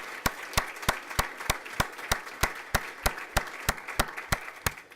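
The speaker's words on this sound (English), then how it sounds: "let's give a round of applause to all of Novato, San Marin, and Novato High for what the teams have done" A school board meeting audience claps in a steady, evenly spaced rhythm, each beat crisp and distinct, continuing throughout over a soft crowd hubbub.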